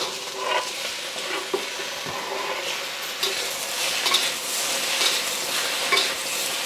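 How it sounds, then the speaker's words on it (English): Vegetables and tomatoes stir-fry in a pan, a soft continuous sizzle broken by scattered scrapes and clinks of a utensil against the metal, moderately quiet with no talking. "so I'm just gonna stir fry this until I get to the texture that I like it"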